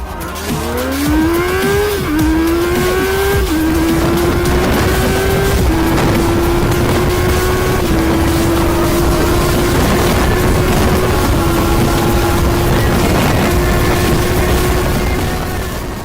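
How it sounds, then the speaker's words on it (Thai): A Honda Super Four motorcycle's 399cc inline-four VTEC engine revs hard and loud, its pitch climbing through several upshifts, each marked by a brief dip before the wail rises again and settles into a high sustained whine. "อัตราเร่งความเร็วของ เจ้าเครื่องยนต์ 399cc 4สูบเรียง ของเจ้า Super 4นั่นเองที่เป็นตัวใหม่นะครับ"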